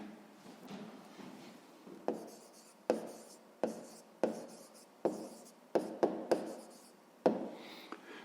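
Pen or pencil writing by hand on paper while an answer is noted down: a steady scratching with a series of sharp strokes and taps at irregular intervals, close and fairly quiet, with no talk.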